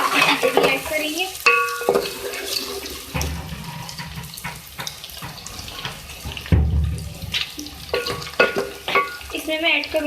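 Potatoes and cauliflower frying in a pan for aloo gobi, a mid-level sizzle with bursts of stirring and scraping, the clatter of a spoon against the pan, and a voice talking in places.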